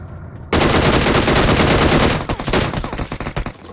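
DBS shotgun fire in the battle-royale game BGMI/PUBG, a loud sustained burst of rapid gunfire that bursts in suddenly and then breaks into separate rattling shots as it tails off, with no voices.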